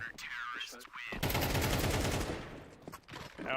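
Sustained burst of automatic gunfire in Counter-Strike, loud and close, rattling for about two seconds between stretches of a man's speech.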